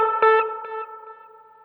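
A single guitar note played through a Roland RE-201 Space Echo tape echo rings out loud and close, with a few quick repeats that fade into a warm, sustained decay.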